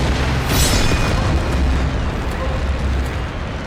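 A missile blast in the Metalstorm jet combat game, a broad loud boom with a bright burst at the start that rolls into a sustained rumbling roar lasting several seconds, with no talk over it.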